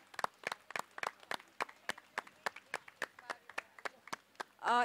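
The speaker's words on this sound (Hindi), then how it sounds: "उन्हें तो जोरदार तालियों के साथ स्वागत कीजिए" Steady, evenly spaced claps from an audience welcoming a TV show's director on stage at a launch press conference, about twenty crisp close claps in a row, ending with a brief voice.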